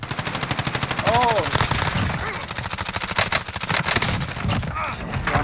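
Rapid automatic gunfire in Call of Duty: Warzone, loud and continuous with a steady rattling rhythm, overlapping player voices talking throughout.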